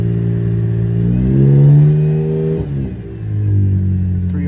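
A Chevrolet Camaro engine revs as the gas pedal is pressed, climbing to a loud, close rev and falling back toward idle, with no talking.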